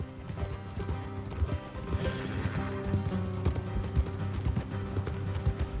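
Horses gallop in Red Dead Redemption 2, with rapid clip-clopping hooves beating steadily and close over a continuous tonal background.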